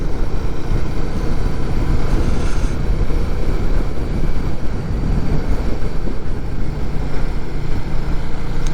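A Royal Enfield Guerrilla 450 motorcycle, its liquid-cooled Himalayan engine, drones steadily while riding, a dense continuous rumble with heavy wind rush and no speech.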